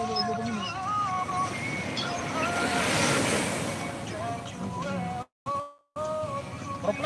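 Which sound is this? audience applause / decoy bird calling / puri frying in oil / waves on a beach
waves on a beach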